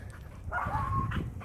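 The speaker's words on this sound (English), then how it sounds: "Barking at people in their own house." Dog giving a single drawn-out whining yelp indoors at home, a moderately loud, brief vocal over a low background hum.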